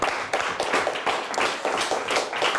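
Brief burst of applause for the winning quiz team from Northern Michigan Christian, clapping from a small studio audience with dense, steady hand claps lasting a couple of seconds.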